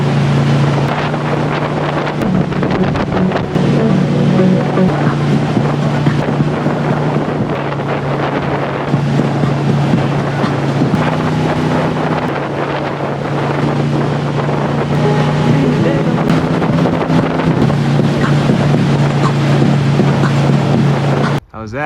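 A motorboat towing a wakeboarder on a cold high-elevation lake drones steadily throughout, its engine hum mixed with heavy wind buffeting the microphone and rushing water, loud and close the whole time.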